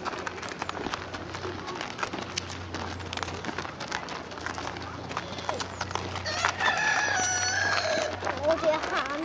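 A rooster crows at a farm where horses are ridden, mixed with other birds and steady outdoor background noise, the crow rising louder toward the end.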